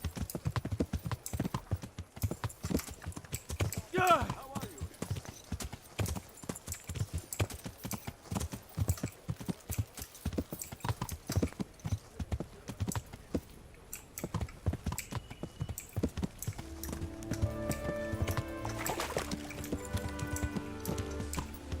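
Horse hooves clip-clop steadily as a mount is ridden in the video game Kingdom Come Deliverance, a continuous close rhythmic patter that carries on throughout, joined near the end by sustained tonal sounds.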